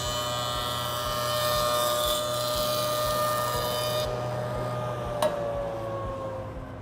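A jointer planes a board meant for table legs in a woodshop, its motor whining steadily while the cutterhead shears wood with a rough rasping sound, then the motor spins down after the pass ends.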